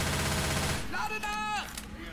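Gunshot in the Left 4 Dead 2 zombie shooter game, a dense loud blast of firing that fades into weapon reload clatter over about two seconds.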